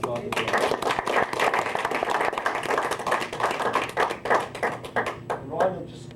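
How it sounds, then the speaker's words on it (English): A round of applause at a conference fills the room with brisk, irregular hand claps that gradually thin out and fade toward the end, with voices faintly mixed in. "I think there should be a big round of applause for both Rhonda and Damon for the fantastic job they've done."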